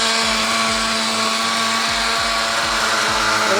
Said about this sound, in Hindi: तमाम चीज़ें इसमें हम ऐड करके इसको कर लेंगे ब्लेंड